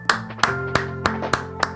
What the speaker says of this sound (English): I gave you a round of applause.